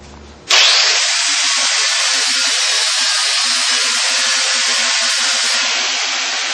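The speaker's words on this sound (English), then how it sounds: "I'm going to use the top of the wheel so I grind off the metal that way" A bench grinding wheel grinds off metal, a loud continuous hissing rasp that kicks in suddenly and holds steady without pause, close and with no voices.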